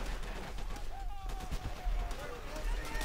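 Rapid gunfire from Call of Duty: World at War rattles in quick bursts over low rumbling battle noise, with faint whistling tones mixed in the background.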